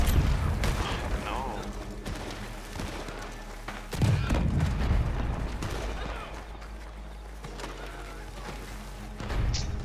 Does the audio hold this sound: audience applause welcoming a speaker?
no